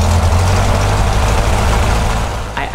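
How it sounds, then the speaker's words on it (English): A Cessna 152 light aircraft engine runs during the pre-takeoff run-up, a loud, steady, close droning rumble that holds constant before easing slightly at the very end. "It includes me doing the engine run-up."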